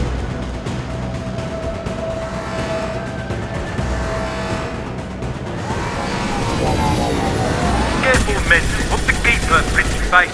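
A gunship aircraft in a video game flies overhead with a rising engine roar and whine that grows louder and closer toward the end, over a low rumbling background.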